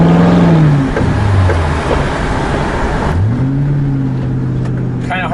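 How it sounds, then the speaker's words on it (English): Crown Victoria Police Interceptor with a straight-piped exhaust, its engine rumbling loud and close, the revs rising and falling through a couple of pulls while a voice talks over it. "with a straight piped exhaust, this thing sounds like a fun, mean car."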